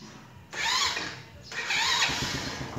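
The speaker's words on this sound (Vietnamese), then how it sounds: "Bấm cái là nổ máy, bấm cái là nổ máy." A Honda Wave motorcycle, fitted with an Exciter 150 charging system and a fully charged battery, fires up on its electric starter twice in quick succession, each short cranking burst catching into a running engine, close and fairly loud.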